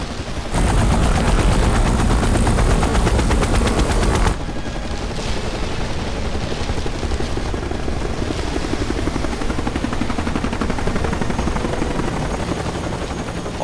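A helicopter descends, its loud, rapid rotor chop thudding close and steady, dropping slightly in level partway through and carrying on as a dense, continuous beat with no voices.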